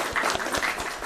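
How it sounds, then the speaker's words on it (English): A brief burst of group applause for team members at a year-in-review gathering, with dense clapping that swells and fades over about a second. "We applaud the only man in the team."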